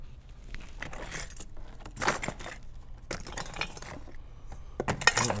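A bunch of car keys jangles and clinks in bursts as they are handled and sorted, close and fairly loud, with no talk.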